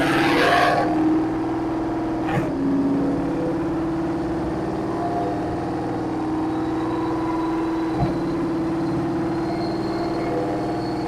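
A 2024 Mustang GT V8 on a chassis dyno holds a steady, loud engine drone with harmonic tones throughout, a brief rev swell at the start and a couple of short clicks partway through.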